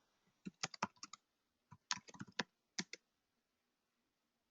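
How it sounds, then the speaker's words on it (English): Rapid bursts of typing on a computer keyboard, quick clustered key clicks in three short runs separated by pauses, fairly close and alone with no talk. "I was actually typing really quickly"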